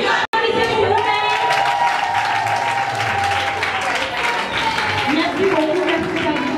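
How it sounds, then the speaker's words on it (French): Students at a school menstrual hygiene awareness campaign applaud themselves, a dense crowd clapping steadily with a few cheers, close and loud, as a voice talks over it. "Applaudissez pour vous-même."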